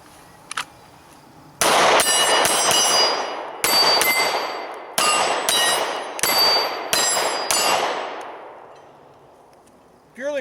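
A Smith & Wesson M&P 9mm pistol is fired on a range. About ten sharp, loud shots ring out close by in quick uneven bursts, each with a metallic clang and a short decaying ring.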